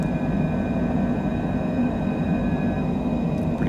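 Airliner engines in a flight simulator hold a steady, loud, even roar with faint whining tones during the takeoff climb, continuous with no pauses.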